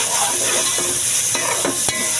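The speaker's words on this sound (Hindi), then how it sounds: "शिमला मिर्च इसको भूनेंगे हम।" Cauliflower and capsicum frying in oil spiced with masala and ginger-garlic paste, a steady close sizzle with a few sharp stirring scrapes and pops, no talking.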